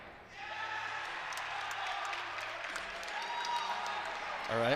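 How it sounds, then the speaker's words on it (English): Illini fans in the crowd at a college gymnastics meet cheer and clap as a broad, distant wash of noise, with a commentator's voice running over it. "The Illini fans cheering behind him."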